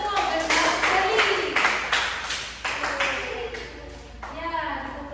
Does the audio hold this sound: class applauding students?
yes